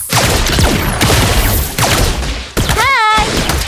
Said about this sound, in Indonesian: Tembakan peluru emas.